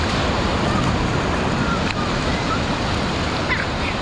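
Ocean waves roll onto a beach in a steady, loud wash of surf mixed with wind rumble on the microphone, continuous across the whole stretch with no clear breaks.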